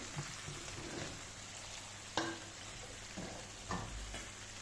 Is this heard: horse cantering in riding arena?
no